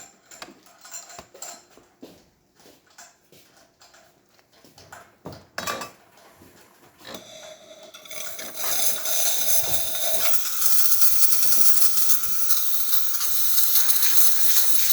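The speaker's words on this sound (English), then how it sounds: "Then we are going to test the steam wand." After some clinking and handling noises, a loud, steady steam hiss starts up from the steam wand of a DeLonghi Specialista espresso machine being tested after a repair, and keeps going, rushing and slightly gurgling.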